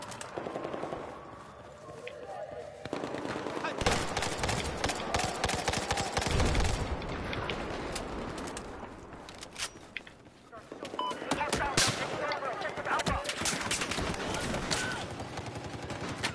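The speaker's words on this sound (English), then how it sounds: "crossfire going on at A now." Rapid automatic gunfire and scattered shots crackle almost continuously in a Battlefield 4 Rush match on the Garden map, with a player talking over the loud, dense crossfire.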